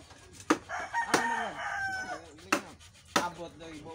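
A rooster crows close by in several rising and falling calls, interrupted by loud, sharp knocks and thuds, with no talking.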